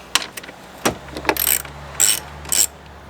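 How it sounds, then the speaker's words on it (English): Ratchet clicks from a bolt being removed on a Mercedes C Class radiator support, several short bursts of close metallic ratcheting with brief pauses between, over a faint low hum. "what I'm going to do is pop the other bolt out of the radiator support"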